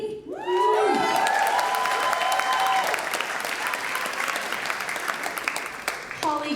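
A crowd at a Centenary bicentennial kickoff birthday party breaks into applause for a guest. Loud, dense clapping builds quickly and holds steady, with a few cheers mixed in, then briefly gives way to a voice at the end.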